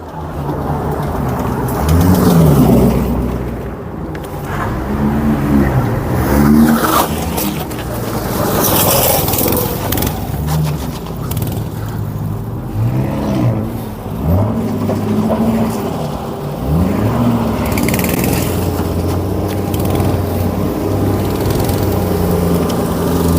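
Custom handmade V8 8500cc Mad Max-style motorcycle engine running, a loud, rough rumble with repeated rising rev swells and passes, steady throughout and heard without talking.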